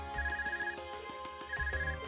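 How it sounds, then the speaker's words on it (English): Arcus device in the game Trails of Cold Steel ringing with a melodic electronic ringtone, two repeating phrases of beeping tones, clear and alone without talk. "Is that your Arcus ringing? What's it doing ringing out here?"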